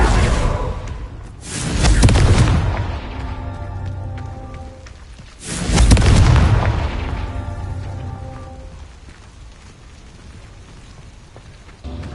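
Two heavy spell blasts from the Confringo fire curse in Hogwarts Legacy on PS5, each a loud booming burst with a crackling, rumbling tail, a few seconds apart, fading into quiet debris rustle.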